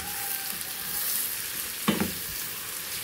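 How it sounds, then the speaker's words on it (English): Chicken adobo simmering in a pan gives a steady, soft sizzle and bubble throughout, with one brief louder clatter near the middle, no talking. "So I have to simmer them slow"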